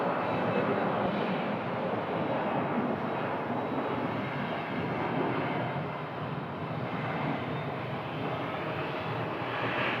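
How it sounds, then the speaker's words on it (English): An airliner takes off from runway 25 right at Phoenix, heard as a steady, loud, broad jet-engine roar that holds throughout without a break and with no voices. "runway 25 right, clear for takeoff"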